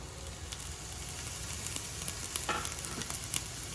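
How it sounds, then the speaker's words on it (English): Onions and garlic frying over medium heat in a skillet for lasagna, a soft, steady sizzle with light crackles and a faint scrape, fairly quiet and continuous. "put the onions over the medium and the garlic over the medium heat until the onions are soft and translucent"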